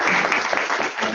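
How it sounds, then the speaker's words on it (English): Audience applause at a Puerto Rican diaspora summit welcoming the president and CEO of the Puerto Rican Congress of New Jersey; a brief, dense burst of clapping from a crowd. "Let's give her a round of applause."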